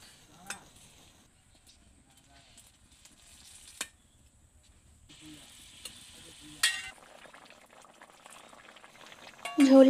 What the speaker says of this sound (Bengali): এবার ঝোলটিকে আমি ফুটতে দেব।